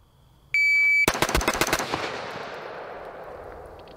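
An AR rifle fired rapidly in a quick burst of loud, sharp shots outdoors after a brief electronic beep, with the echo decaying afterward.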